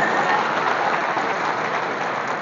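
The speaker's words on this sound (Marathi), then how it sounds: "जोरदार टाळ्यांचा गजर त्यासाठी" Loud, dense applause from an audience at a civic cleanliness awards ceremony greets a school student honoured with second prize, a steady wash of clapping with no voices.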